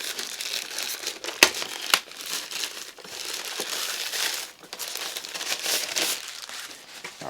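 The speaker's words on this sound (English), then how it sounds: "Let's unwrap this." Plastic packaging crinkles and tears as an AtomMan G7 Ti mini gaming PC is unwrapped, close and busy, with a few sharp rips and continuous rustling and no speech.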